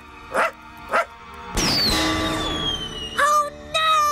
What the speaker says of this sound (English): You've got a dog in here.